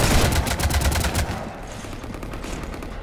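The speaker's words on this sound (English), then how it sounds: "You want to stop shooting up my ship?" Rapid gunfire rattles loudly aboard a ship in Mass Effect 3, a dense burst of shots for about a second and a half before easing into a lower rumble of continued firing and ambient noise.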